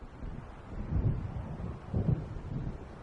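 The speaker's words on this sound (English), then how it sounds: "It seems there's a storm coming." Stormy weather in Alan Wake Remastered: a steady wind roar with low rumbling swells, two deeper thunder-like surges building and fading amid the gusts, no voices.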